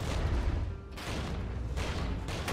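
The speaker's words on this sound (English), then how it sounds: "Oh, those are mortars. Okay. That's what's attacking us." Mortar fire in the Regiments video game, a steady barrage of distant booms and rumbling impacts that rolls on continuously, with brief swells of noisy blasts.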